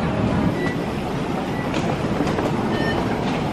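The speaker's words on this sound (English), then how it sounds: "We're going to take the express train." Steady rumbling of an express train in Taiwan in motion, a continuous rolling roar with faint wheel clatter and occasional high squeaks throughout.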